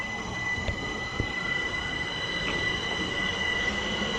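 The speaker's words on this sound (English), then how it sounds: "Train leaving." At Sydenham, a train pulling out of the station squeals steadily from its wheels, a sustained high metallic whine over a continuous rolling rumble, close by and without talking.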